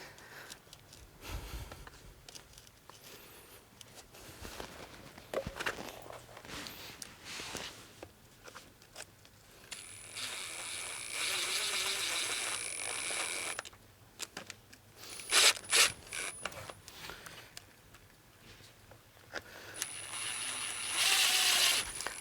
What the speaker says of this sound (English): I'm just kind of breaking the liner a little bit with this pointed screwdriver.